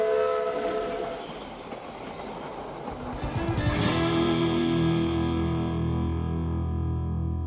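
A British narrow gauge steam locomotive sounds its horn, a loud sustained harmonic blast that swells and then fades, over rumbling rail noise.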